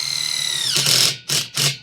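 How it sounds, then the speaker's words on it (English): A power drill bores into a wooden door stud while framing an end wall. It gives a loud, close whine that bogs as it bites, then three short bursts of drilling. "you can drill, you know, anywhere you want in this thing"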